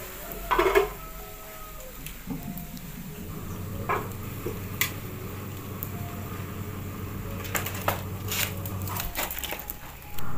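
Shallots, garlic, candlenut, salt and turmeric are ground in a stone mortar and pestle, with scraping, crushing strokes and occasional knocks, fairly quiet and close.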